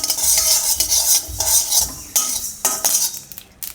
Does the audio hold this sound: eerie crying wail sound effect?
no